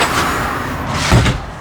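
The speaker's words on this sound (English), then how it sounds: "this solid wood pocket door here. Slides over to give you the privacy." A solid wood pocket door in a 2022 FR3 30DSF gas Class A motorhome slides with a steady rolling rumble, closing with a soft thud near the end.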